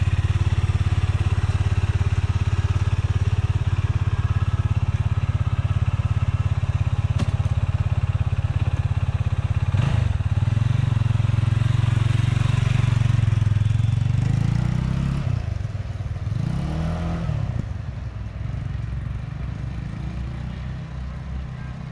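A Benelli TNT25 motorcycle engine runs close by, a loud steady idle with throttle blips and revving swells partway through, then settling back to a lower, fading hum.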